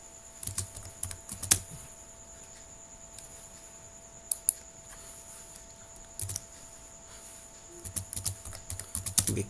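Typing on a computer keyboard, close and fairly quiet, in scattered short bursts of key taps with pauses between, ending in a quicker flurry.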